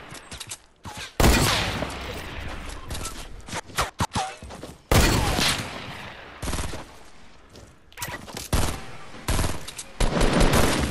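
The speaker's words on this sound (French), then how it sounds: "on a eu le premier kill au fusil" Rifle gunfire in the video game Fortnite, loud rapid bursts of automatic shots in several clusters with short gaps between, close and dominant.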